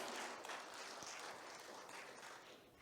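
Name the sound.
congregation applauding in church service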